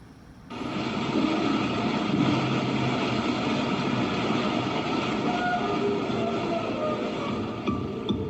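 A train travels by railroad, a steady loud rumble and rolling roar that starts abruptly after a brief quieter moment and holds constant throughout, with no voices.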